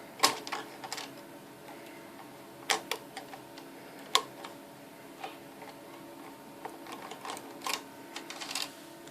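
A Bond knitting machine transferring lace stitches three at a time gives irregular sharp plastic-and-metal clicks and taps, some clustered, over a faint background, with no talking.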